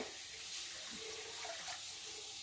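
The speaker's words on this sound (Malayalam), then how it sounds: "അത് വേവിച്ചെടുത്തിട്ട് ഞാനൊന്ന് വെള്ളം ഒഴിക്കട്ടെ" Water poured into a cooking pot while making a jackfruit thoran, a steady soft rushing splash running throughout at moderate volume.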